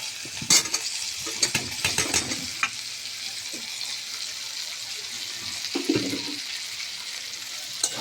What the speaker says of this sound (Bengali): একটু ভেজে নিলাম, এরপর দিয়ে দিচ্ছি আলুগুলো।